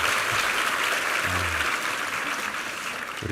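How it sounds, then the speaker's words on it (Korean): A church congregation at a Sunday worship service gives steady, full applause to welcome visiting guests, and a voice briefly sounds through the clapping. "한번 환영의 박수 한번 하겠습니다"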